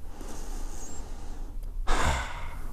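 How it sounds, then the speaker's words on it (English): A single deep breath drawn and let out during a calm relaxation exercise, a soft airy inhale followed by a fuller, louder exhale near the microphone, with no talking. "Stop tapping, take a deep breath."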